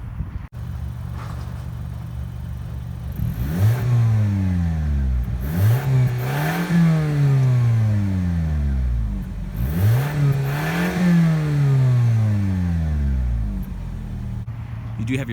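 A 2018 Toyota Camry XSE with quad exhaust pipes revs hard twice, each run climbing sharply in pitch and then falling back to idle, loud and close, with a steady idle hum before and between.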